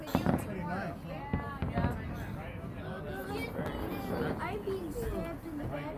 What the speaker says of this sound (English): These are fireworks from Disneyland from our place.